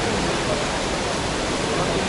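Steady, dense rushing of the Düden waterfall in Antalya, Turkey, loud and close, filling the whole clip without a break.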